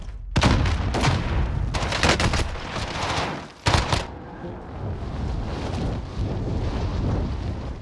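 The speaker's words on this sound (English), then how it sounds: "I jumped and started shooting over his head." Rapid bursts of automatic gunfire in the video game Warzone, several loud close volleys in quick succession, then a quieter rumbling game ambience with no voices.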